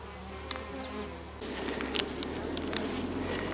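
A steady, dense buzzing of many honey bees swarming close by at a hive, with a few sharp clicks and taps scattered over the constant hum.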